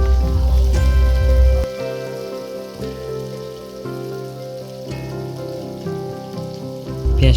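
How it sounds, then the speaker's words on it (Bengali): Cumin seeds sizzle in hot oil in a pan while cooking a soybean dish, a loud, continuous crackling fry close by with a low hum beneath and no talk. "তারপরে একটু আমরা জিরে দিয়ে দিলাম তেলের ওপর।"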